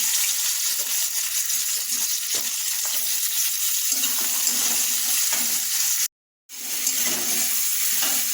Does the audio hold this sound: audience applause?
no